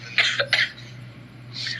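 Two sharp, close coughs in quick succession from a person with a cold, followed by a softer breathy exhale.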